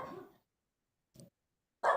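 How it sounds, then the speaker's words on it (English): Dog barks burst out twice, a short yip in the middle and a louder bark at the end, with a fading bark at the start and silence between, heard during a casual livestream. "My dogs are barking."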